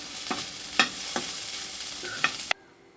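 Tomatoes fry with black pepper, cumin, fennel and onion in a pan, a continuous close sizzle broken by several scraping stirs before cutting off abruptly.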